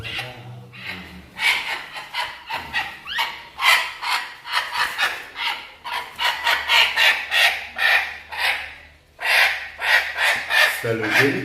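A chicken clucking and squawking in short repeated bursts, fairly close and loud, with rhythmic noisy activity and a low hum underneath.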